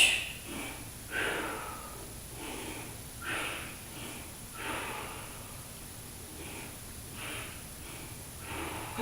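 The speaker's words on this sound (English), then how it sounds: "I was trying to exaggerate my breath so you could hear where the exhales are coming." Exaggerated heavy breathing from a person doing Superman exercises lying on the stomach, rhythmic forceful exhales and snorting breaths repeating roughly every second, close and fairly quiet.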